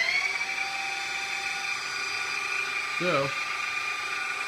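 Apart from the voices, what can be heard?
electric motor driven by VFD spinning up to speed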